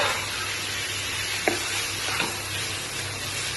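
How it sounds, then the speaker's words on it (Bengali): Spice masala fries in a pan for banana flower chops with a steady, close sizzle, and a couple of soft stirring scrapes come through over a low background hum. "এই মশলাটাকে কষিয়ে নেব।"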